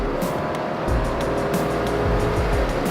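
A 2018 Subaru Crosstrek climbing a hill, its engine straining with a steady low drone and road rumble heard from inside the cabin, moderately loud throughout.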